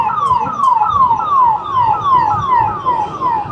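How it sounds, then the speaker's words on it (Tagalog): An ambulance siren wails on a busy Nepal street, loud and near, its rapid falling sweeps repeating steadily over low traffic rumble. "Ambulansya."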